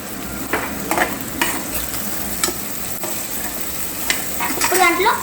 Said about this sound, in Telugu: ఆనియన్స్ మనకి బాగా వేగాలంటే చిటికెడు ఉప్పు వేసుకుంటే బాగా మనకి వేగుతాయి